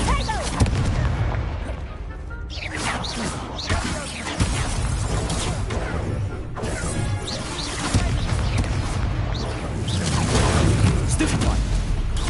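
Incendio fire spell cast in the Hogwarts Legacy video game, heard as repeated booming, crackling magical bursts in a dense, continuous game battle soundscape, with several blasts and crashes layered over steady low rumble.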